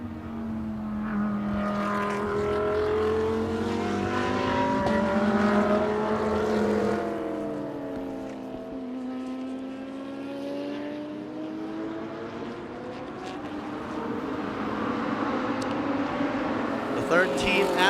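An Audi R8 LMS GT3 race car in GT Asia qualifying, its engine note sweeping up and down through the gears, running steadily beneath continuous commentator talk.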